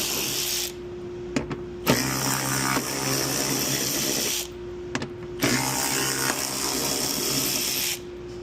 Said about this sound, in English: go ahead and remove these 3 bolts. So again, we've got a 10mm socket.